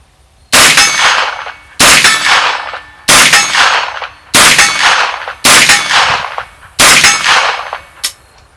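An FM-9 rifle with a 16-inch barrel fires at steel targets 35 to 50 yards away: six loud, evenly spaced shots, each followed by a bright ringing clang of struck steel.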